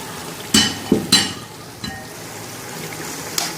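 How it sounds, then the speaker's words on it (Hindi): Chopped vegetables tumble into a pot of frying chicken masala with a few sharp clattering hits, followed by a steady sizzle and faint stirring clinks. "अब इसमें डाल रहे हैं हम सारी सब्जियां जो हमारे पास थी"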